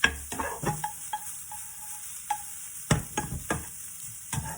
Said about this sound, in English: now you just need to saute it so that that smell of that raw cauliflower can go away